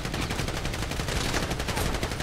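Rapid, continuous gunfire rattles loudly and densely throughout a shootout during a bank robbery in a video game, with no pauses between shots.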